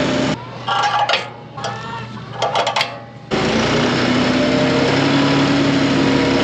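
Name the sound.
tractor engine running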